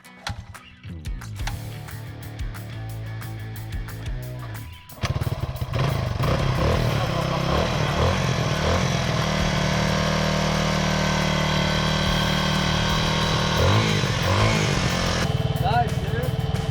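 A small vehicle engine idles with a clattering putter, then surges into a sustained loud rev as it is given gas, holding a steady drone for several seconds before easing off, with voices heard faintly at times.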